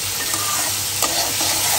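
Ginger, garlic, turmeric and chili powder fry in hot oil in a pan, making a loud, dense, steady sizzle with faint stirring scrapes, alone and close.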